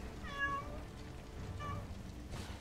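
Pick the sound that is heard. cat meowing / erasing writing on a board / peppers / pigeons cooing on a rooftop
cat meowing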